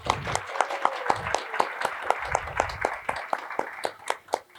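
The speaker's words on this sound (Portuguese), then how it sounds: "Uma salva de palmas pro livro, pessoal." An audience at a book reading in Paracatu gives a round of applause for a children's book: a modest group claps in a loose, rhythmic pattern, individual claps distinct and close, fading slightly at the end.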